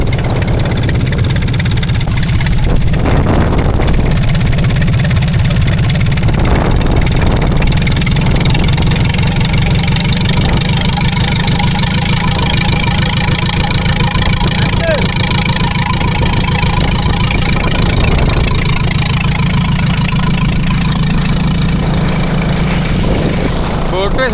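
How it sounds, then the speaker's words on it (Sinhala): A fishing boat engine at sea off South Korea, where nets are being washed, drones loudly and steadily throughout, a constant low hum with wind noise and voices talking over it. "බෝට්ටුවේ සද්දේ ඉන්න ගොඩක් ඇහෙන්නේ නැහැ කතා කරන එක."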